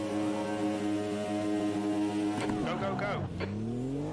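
An F-Ultima race car in the Automobilista 2 racing game revs hard and shifts up through its gears, engine pitch climbing and dropping in steady steps, loud and close over a continuous whine.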